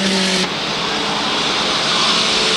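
Mini stock race cars at the Waterford Speedbowl roar past, a loud engine drone with a tone that cuts off sharply early on, then a broad steady rush of motor noise and wind for the rest.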